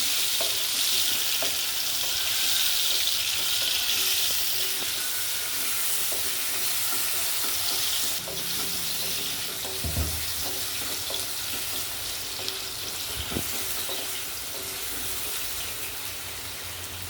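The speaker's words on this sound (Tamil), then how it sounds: "நல்லா நெய்யவே போட்டு நல்லா ஃப்ரை ஆகணும்" Continuous close sizzling of food frying in hot ghee, with occasional clinks and scrapes of a utensil stirring.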